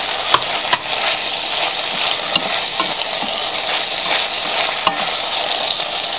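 Sliced peppers and chopped garlic frying in a pan, a loud, dense sizzle with sharp spitting pops and occasional stirring clicks, steady and close throughout.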